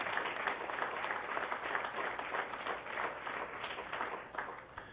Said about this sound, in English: Please give Carly McGee a good round of applause.